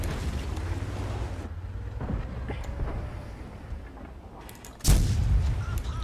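A tank cannon fires in a tank battle video game, its round ricocheting off an enemy cupola; low engine rumble runs underneath before a single loud, sharp boom lands near the end.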